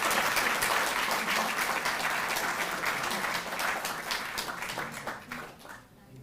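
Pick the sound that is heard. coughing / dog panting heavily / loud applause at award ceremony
loud applause at award ceremony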